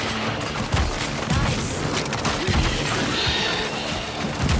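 Shotgun fire in the VR shooter After the Fall, a dense run of loud blasts and crashing impacts layered over continuous game noise and combat clutter, with no clear pause between shots.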